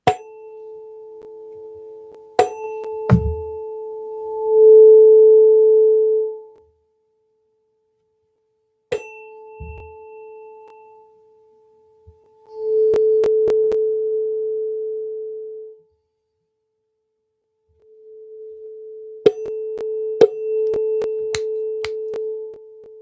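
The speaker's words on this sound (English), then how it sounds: "So here is 432 frequency." A steady pure 432 Hz sine tone hums in three long stretches separated by silence, with a few clicks and taps scattered over it.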